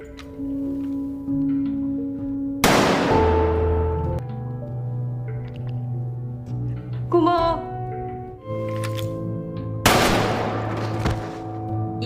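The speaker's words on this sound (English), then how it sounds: "Ilnam, Ali and the others were also declared eliminated and shot to death." Gunfire from the Squid Game series sounds as two sharp, loud bursts of shots against a low, tense musical drone, with a brief rattling flurry between them.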